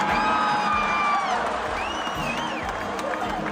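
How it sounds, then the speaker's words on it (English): Large stadium crowd at a concert cheering and roaring in a sustained, dense wash of voices with whoops rising above, loud and continuous throughout. "The crowd roared"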